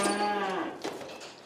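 A heifer on a farm gives one loud, close moo lasting about half a second, followed by a quieter trailing breathy sound.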